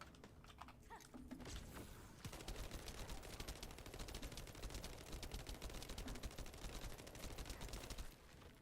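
Rapid hip-fire gunfire in The First Descendant video game, a dense, steady stream of fast shots starting after a brief pause and running for several seconds, fairly faint, then cutting off near the end.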